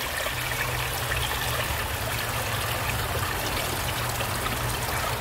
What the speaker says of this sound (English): I'm going to be getting a little bit of water from the pond to put it inside of the cooler